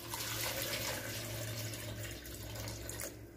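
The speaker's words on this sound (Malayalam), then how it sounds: "ഇതിലേക്ക് ഞാൻ നല്ല തണുത്ത വെള്ളം കൂടി ഒഴിക്കുന്നുണ്ട്" Cold water poured into a glass of orange and lemon juice makes a steady, continuous splashing rush that holds for a few seconds, close and moderately quiet, with no voices.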